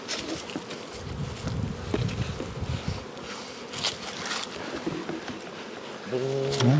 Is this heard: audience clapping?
no